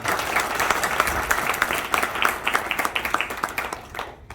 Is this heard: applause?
yes